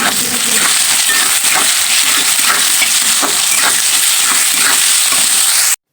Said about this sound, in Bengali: এবার পেঁয়াজ কুচিগুলো দিয়ে দেবো।